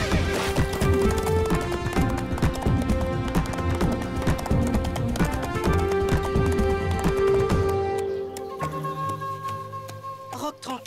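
A horse gallops off in a Yakari cartoon, steady clip-clop hoofbeats running under loud orchestral music for about eight seconds before the music thins and quiets.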